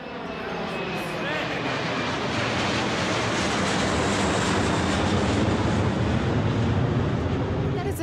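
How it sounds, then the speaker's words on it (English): A steady, loud jet engine roar of airplanes taking off and landing at an airport, building gradually, with a faint whine on top. "We were going to watch the airplanes take off and land."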